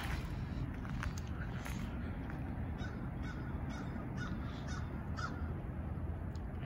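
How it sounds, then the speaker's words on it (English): Crow cawing outside an abandoned Kmart building in Hampton, Virginia, a few short calls rising over steady outdoor wind and background noise. "And a crow crowing is the"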